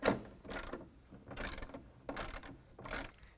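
Ratchet wrench tightening a 19 mm bracket bolt on a truck body while fitting nerf bars, with five quick bursts of metallic clicking at a steady rhythm, close and fairly quiet.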